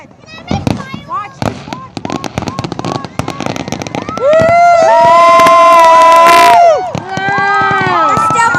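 Canada Day fireworks crack and thump at night amid a cheering, whooping crowd, with sharp repeated bangs early on and then a loud sustained roar as the crowd shouts, people talking nearby.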